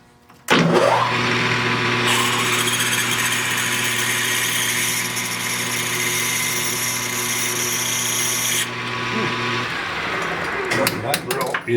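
A power drill with a dull 5/16-inch bit whines steadily under load for several seconds, loud and close, then spins down and stops.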